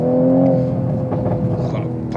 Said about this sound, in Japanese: このアクセル戻した時のバブリングの音ね